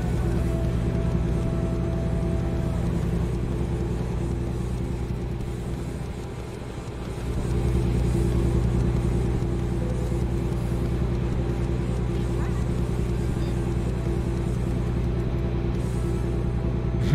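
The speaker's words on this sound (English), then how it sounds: "my truck's making a bad sound" Low, steady truck engine drone in American Truck Simulator with a constant hum, briefly dipping midway before resuming its strained rumble; no talking.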